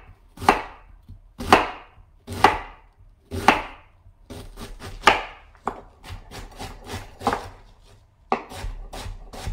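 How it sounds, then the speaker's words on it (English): A knife chops cabbage on a board in a series of crisp, loud thuds, slower strokes first, then a quicker run of cuts; no talking. "I think that's enough chopping for now."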